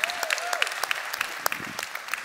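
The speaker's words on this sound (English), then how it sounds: "Let's give a round of applause." Scattered audience clapping at a YMCA World Council gathering, light and uneven with individual claps standing out over a thin crowd wash, a faint rising tone near the start.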